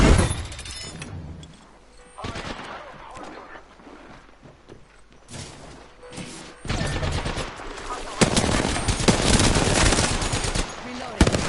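Rapid automatic gunfire in the battle royale shooter Apex Legends arrives in bursts: a sharp volley at the start, scattered shots in a quieter stretch, then loud sustained firing near the end, with voice lines heard over it.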